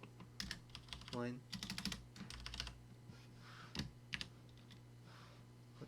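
Python code is typed on a computer keyboard in quick, irregular bursts of close, crisp key clicks, with brief spoken words in between.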